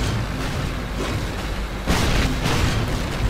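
Shell explosions from a tank battle near Prokhorovka in Call of Duty: United Offensive, with a dull rolling boom that swells sharply midway and then holds as a heavy, noisy rumble.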